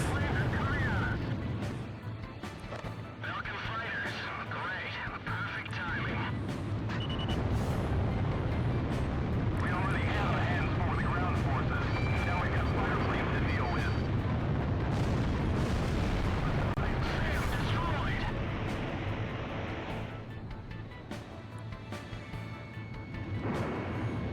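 Aircraft weapons and bombs firing and exploding in Ace Combat Zero, heard as a dense, continuous rumble of booms and gunfire with sharp bursts over a deep roar, loud throughout.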